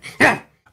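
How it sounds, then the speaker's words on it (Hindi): A growl meant for a mechanical dog: a short, raspy, throaty snarl bursts out after a faint lead-in and fades quickly, a single close sound with nothing else around it. "ध्रुव के गले से एक गुरगुराहट उभरी"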